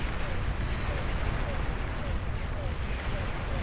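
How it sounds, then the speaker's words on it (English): Artillery fire rumbles in a dense, continuous barrage during a Beyond All Reason battle, a steady wall of booms with a voice talking over it. "Artillery being utilized perfectly, keeping distance."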